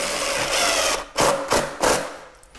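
A power driver drives screws during a shower remodel, giving a sustained whir and then three short bursts, loud and close.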